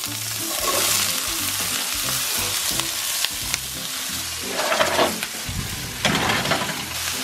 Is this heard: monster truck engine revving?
no